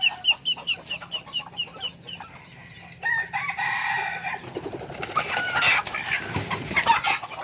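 A young Thai game cockerel clucks close by in quick, short, repeated bursts, then lets out a crow, followed by a rougher stretch of busier farmyard noise, with no voices.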